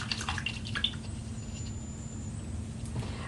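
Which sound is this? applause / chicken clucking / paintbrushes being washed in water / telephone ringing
paintbrushes being washed in water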